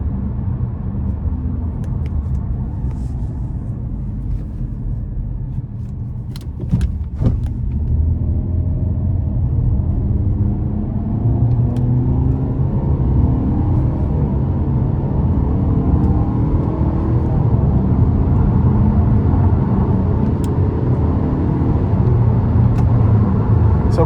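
From inside a 2017 Nissan Rogue S, the engine drone and road rumble build steadily while the car accelerates in manual mode up an on-ramp onto the interstate. The sound is loud and continuous, with a brief thump partway through and no talking.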